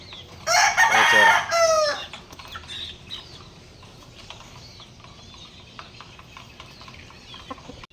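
Young stag roosters about four months old crowing; one loud nearby crow at the start, then softer clucks and scattered farmyard noises.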